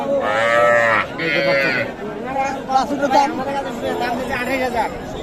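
At the traditional Khochabari cattle market, with small bulls and heifer calves, a cow moos loudly and close by at the start, then the noise of chattering people and more bellowing follows.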